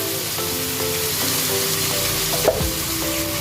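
Chili powder fries in a hot chicken biryani pan with a continuous close sizzle, broken by light periodic stirring scrapes and one sharper clank of a spoon.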